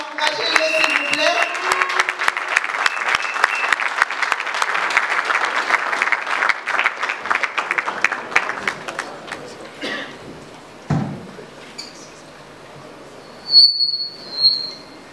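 A crowd at a political rally applauds steadily for several seconds as a dignitary comes forward, the clapping thinning out near the end while a voice speaks over it.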